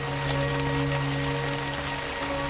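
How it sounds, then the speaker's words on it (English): Steady soft rain falls in a cartoon-style animal story game, a light patter with scattered drops over a constant hiss and faint tonal hum, running unbroken throughout. "Then another one, and another, as it began to rain."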